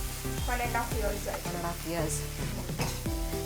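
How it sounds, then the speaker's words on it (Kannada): A tablespoon of ginger garlic paste frying in a hot pan for an egg ghee roast, with a continuous close sizzle and a spoon scraping and stirring in repeated strokes. "ಒಂದು ಟೇಬಲ್ ಸ್ಪೂನ್ ಶುಂಠಿ ಬೆಳ್ಳುಳ್ಳಿ ಪೇಸ್ಟ್ ಫ್ರೈ ಫ್ರೈ ಮಾಡ್ಕೋಬೇಕು"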